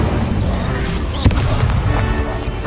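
Incendio fire spell cast in a Hogwarts video game duel, a loud crackling, rumbling fiery burst with a sharp crack near the middle, dense and sustained for a few seconds.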